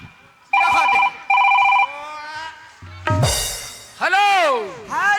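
A mobile phone rings with two bursts of bright, electronic warbling tones, loud and close, followed by voices talking.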